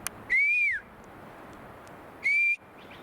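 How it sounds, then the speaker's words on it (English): An excited bird somewhere in the woods gives two loud, clear whistled calls, each a sustained rising-and-falling note of about half a second, separated by a quiet gap. "That bird's like on crack over there. He's literally going nuts."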